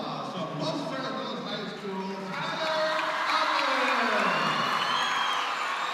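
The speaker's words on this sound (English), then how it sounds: "And now you'll hear this crowd respond to Tyler Alvarez." Basketball gym crowd at a three-point shooting competition, cheering and whooping that swells louder in the second half, with voices talking over the noise.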